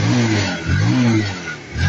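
Close, loud idling of a Rouser 180 motorcycle engine after starting, a steady rumble that swells slightly as it revs, with no talking.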